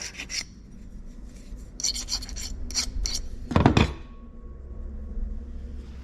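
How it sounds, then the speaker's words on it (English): Electrical connections on a 1978 Chevy C10 are scraped clean in short, close rasping bursts, a handful of quick strokes followed by one louder, longer scrape before a quieter stretch. "we'll go ahead and clean these connections up"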